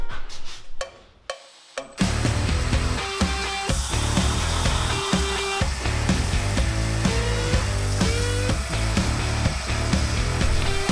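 A sanding machine whirs steadily while shaping a wooden knife handle, a loud continuous motor tone after a few short starts and stops, with pressure changes shifting the pitch.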